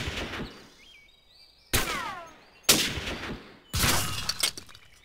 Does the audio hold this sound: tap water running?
no